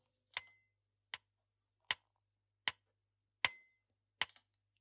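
Metronome click from a Roland SPD-SX PRO drum pad, six sharp evenly spaced ticks about three quarters of a second apart, crisp and isolated against silence.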